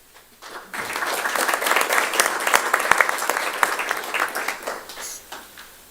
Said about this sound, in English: I'll extend that applause to our leadership from the county here as well.